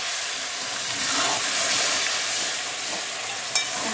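Water poured into a hot pan of curry cooking with figs, a broad steady hiss of sizzling and steam with no talk, ending in a small sharp clink.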